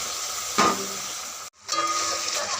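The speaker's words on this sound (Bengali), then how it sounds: "এবার আমি একটু জল দিয়ে কষে নেব, মানে মশলা ধোয়া জলটাই আমি দিয়ে দিলাম।" Masala frying in oil in a pan just after spice-rinse water is poured in, a steady close sizzle and hiss with a brief burst of stirring, one short dropout, then the sizzle resumes.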